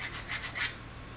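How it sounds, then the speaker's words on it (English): A sanding disc rasps against the ends of wooden pen blanks as they are squared, giving three short scraping strokes in quick succession over a steady low motor hum. "then we'll set up the sanding disc on it, and we'll square the ends of these blanks"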